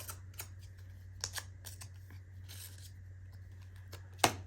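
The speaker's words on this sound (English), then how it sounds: "you can cut into it and distress the edges" Scissors cut into paper to distress its edges for a no-sew hinge-bound journal, giving soft crisp snips and rustles at irregular intervals, close and quiet over a steady low hum, with one sharper snip near the end.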